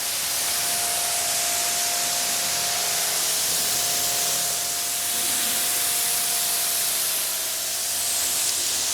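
Steady, loud hiss of a pressure water spray rinsing an Audi B7 RS4 during a car wash, continuous and close with no voices.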